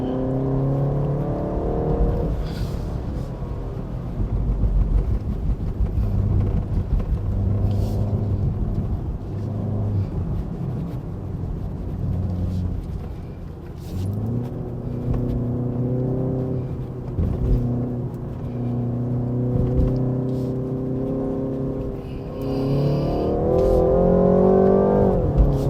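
A 2023 BMW 330i LCI drives a wet, slippery mountain road at Genting, its engine droning and rising through gears with steady tyre and road noise over nearly half a minute, no talk.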